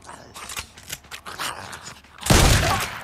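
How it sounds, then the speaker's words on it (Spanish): Gunfire from the video game Days Gone, scattered sharp reports through the first two seconds followed by a loud, sustained burst of blast noise near the end, with game sound throughout. "Disparo a la cabeza."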